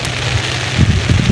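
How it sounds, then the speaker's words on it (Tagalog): Light drizzle falling outdoors at a river fishing spot during a storm, a loud close hiss of rain with low wind rumble buffeting the microphone. "Ulambon."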